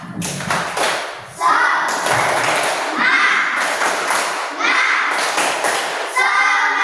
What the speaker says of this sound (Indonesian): Coba sekarang kita tepuk semangat.